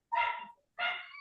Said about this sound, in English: my neighbor's dog is making a lot of noises